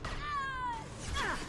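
A single faint cat meow with a falling pitch sounds over low background noise, followed by a softer, brief second cry.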